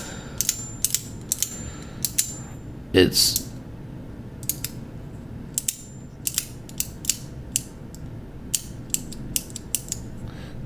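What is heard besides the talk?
magnet-engaged mechanism clicking and ratcheting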